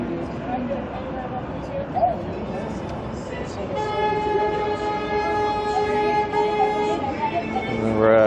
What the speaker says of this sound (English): Got the taxis honking. They're always honking.